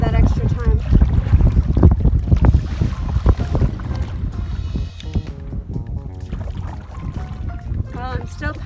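Canoe paddling through Anima Nipissing Lake in Temagami backcountry, with steady wind buffeting the microphone and irregular paddle splashes and knocks against the hull throughout.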